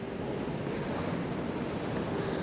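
Strong wind buffets the microphone in a constant roar on the coast at St Ninian's Isle, Shetland, with the broad wash of surf blending underneath.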